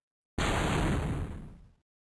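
A single explosion in the game Goddess of Victory: NIKKE, a sudden loud burst that sustains briefly as a rough, crackling roar before fading out, heard alone with silence on either side.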